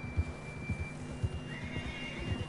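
A horse neighs and whinnies in the Red Dead video game, with a few soft hoof thumps and a steady low hum underneath, moderately close and without talk.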